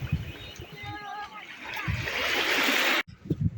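Sea waves wash and splash against the Odesa shore, swelling into a loud rush that cuts off abruptly, while a person talks nearby over the water.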